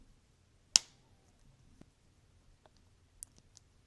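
Wire cutters snip off excess wire while making coil wire jewelry, one sharp close click followed by a few fainter small clicks and taps in a quiet room.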